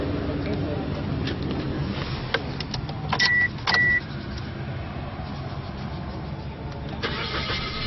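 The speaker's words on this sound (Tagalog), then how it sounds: "So ngayon, isa-start mo na yung engine." A car engine cranks and catches, with short electronic beeps and a brief whir like a power window partway through, then settles into a steady idle while people talk nearby.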